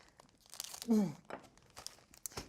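A cookie package crinkles and tears as it is cut open in a kitchen, a short rustling burst that stands out near the middle and sits among quiet background sounds.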